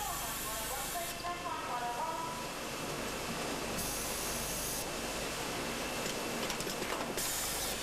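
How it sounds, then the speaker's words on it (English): A sock-making machine sews shut the toe end of a sock, giving a continuous hissing, clattering mechanical whir with periodic louder swishes, steady and close, while a voice talks over it. "this machine is sewing up the hole in one end so your foot won't go all the way through"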